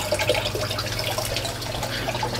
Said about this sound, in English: And the water flowing into the drum filter